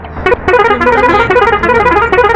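A loud, sustained musical bus horn from the video game Bus Simulator Indonesia blares continuously, its melodic multi-tone pattern repeating close up.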